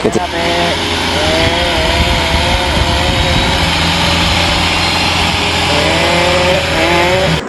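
A heavily loaded tractor labors along a village dirt road, its engine drone loud and steady throughout with a buzzing, saw-like edge, while people talk and call out over it.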